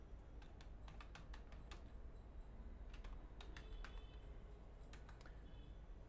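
Fingers tap a computer keyboard in quick irregular bursts of clicks, fairly faint over a steady background hum, with short pauses between runs and no talking.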